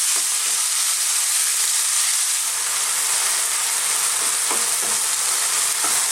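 Beef and beans stir-fry in a pan over very high heat, a loud, continuous sizzle with steady hiss and the occasional scrape of stirring, and no voices.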